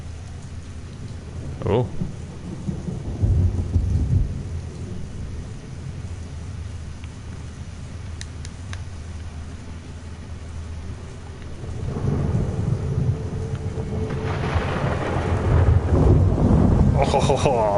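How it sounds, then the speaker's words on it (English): A thunderstorm with rain in the video game Rapture, steady rainfall under rolling thunder that swells louder toward the end, with a brief spoken exclamation early on. "Oh, lovely storm sounds, aren't they? Really well made."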